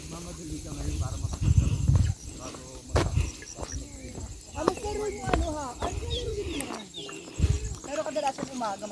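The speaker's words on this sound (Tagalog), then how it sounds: "Did you hear that sound? Anong ibon yun" Bird calls along a trekking trail: repeated cooing and whistled notes at a moderate distance, mixed with people chatting nearby.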